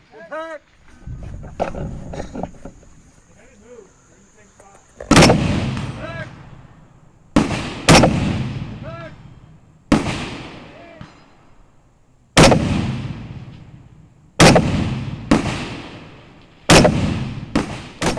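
Cobalt Kinetics rifle fired outdoors as a designated marksman rifle, seven sharp loud gunshots spaced a couple of seconds apart, each with a ringing decay, with voices talking in the background early on.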